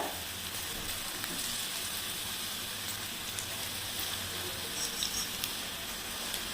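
Okra pieces deep-frying in hot oil, a dense steady sizzle and crackle like heavy rain, continuous and moderately quiet with no talking.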